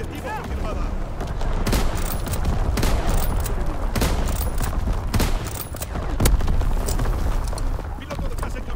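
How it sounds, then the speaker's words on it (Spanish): Artillery and gunfire in the World War II video game Call of Duty: WWII, a steady roar of battle punctuated by several loud, sharp blasts at irregular intervals. "Fuego de artillería."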